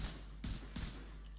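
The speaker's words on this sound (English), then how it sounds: "Okay, I'm gonna test M1A rifle first." An M1A rifle fired in The Division 2 video game, with three quick sharp reports in rapid succession, each leaving a short ringing tail.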